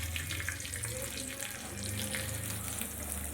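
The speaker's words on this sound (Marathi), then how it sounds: "हा तडका मी आता आपल्या चटणीमध्ये घालणार आहे" Hot tempering poured into fresh wet-coconut chutney sets off a steady, dense sizzling hiss that holds evenly from start to finish, close and fairly loud, with no speech.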